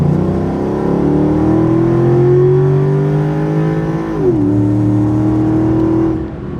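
A Mercedes E55 AMG with a modified 722.6 transmission valve body accelerates hard, its engine note climbing steadily before a quick, crisp upshift drops the pitch and it pulls again, loud and close.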